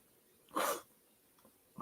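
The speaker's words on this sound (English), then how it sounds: "hold on. I'm sneezing." A single sharp sneeze bursts out in a brief, breathy blast, then quiet follows with a faint hint of movement near the end.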